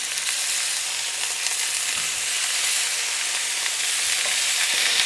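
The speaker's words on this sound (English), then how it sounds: "If it sizzles, that's a good sign." Pork sizzling as it browns in oil in a very hot pan for carnitas, a dense continuous crackling hiss, loud and close, with faint stirring bumps underneath.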